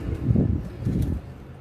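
Pigeons cooing nearby, two soft low throaty coos in quick succession with a faint rustle between them.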